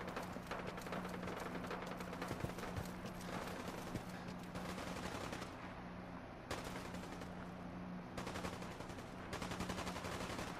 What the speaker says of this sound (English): Well, guys, more gunfire.